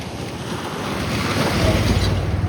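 River water rushes across a stretch of the BP Highway in Nepal, a continuous broadband roar that grows slightly louder and heavier over the short span, with no voices.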